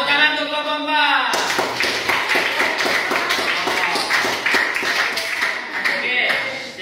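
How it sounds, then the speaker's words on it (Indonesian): A classroom of students claps for a group, a brisk steady burst of many hands close by after a brief spoken introduction. "tepuk tangan untuk kelompok 4"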